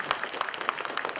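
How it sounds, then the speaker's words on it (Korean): An audience at a citizens' movement appointment ceremony in Pohang claps briefly, a fairly faint, scattered patter of individual claps. "여러분들 큰 박수 주십시오"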